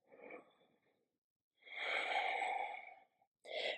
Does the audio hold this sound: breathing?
yes